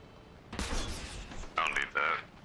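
Gunfire in the military video game Arma Reforger: a burst of shots with rumbling echoes, followed by two short sharper bursts, faint and at a moderate distance.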